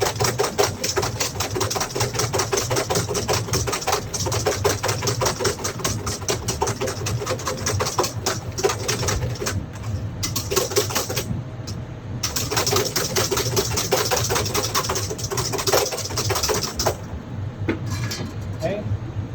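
An electric mixer beats egg whites at a club cooking class, giving a steady, buzzing motor whir with a fast rhythmic rattle that runs loud and unbroken throughout.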